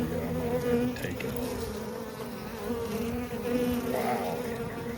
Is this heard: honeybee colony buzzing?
yes